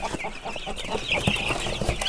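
A brood of Sasso and Ross 308 broiler chicks with American Bronze turkey poults keeps up a steady, close chorus of clucks and cheeps, with almost no talk over it.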